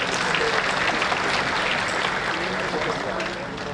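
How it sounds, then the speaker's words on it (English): Applause for the organising team at an international science conference, a loud, thick burst of clapping from the hall with some voices underneath, tapering slightly toward the end. "Kindly give a good round of applause for the team."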